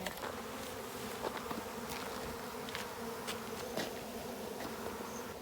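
A honey bee swarm buzzing in a steady, faint drone, with individual bees zipping close past now and then over the continuous hum.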